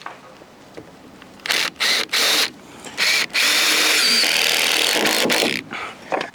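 A power drill drives 2.5-inch structural GRK screws into floor joists in short, loud whirring bursts, then one longer sustained run, with quiet gaps between them, close by.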